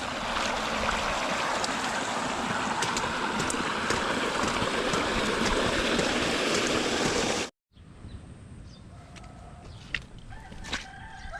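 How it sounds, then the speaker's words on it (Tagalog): Rain-swollen stream rushing hard, a loud continuous broadband roar close by that cuts off abruptly partway through, leaving quieter outdoor ambience with a rooster crowing and hens clucking. "lakas ngayon ng tubig, gawa ng ulan"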